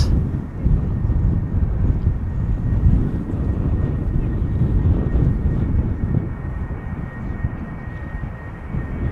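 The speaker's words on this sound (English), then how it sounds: "Another A320 Neo ITA Airways arriving from Rome, flight 108" An ITA Airways Airbus A320neo arriving from Rome approaches Amsterdam Schiphol, a steady broad engine roar with wind buffeting, continuous and fairly loud outdoors.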